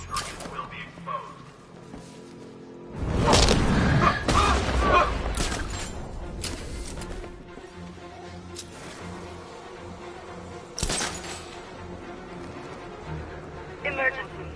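A massive explosion in the video game Batman Arkham Knight erupts as a loud booming blast with crackling debris and rumbling aftermath, followed by scattered smaller bangs, with voices talking over parts of it.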